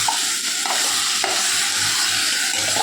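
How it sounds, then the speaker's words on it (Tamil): Vegetables for sambar sauté and sizzle steadily in a pan, with a few clinks and scrapes of stirring over a constant frying hiss and no voices. "அது கொஞ்சம் வதக்கி போடும்போது"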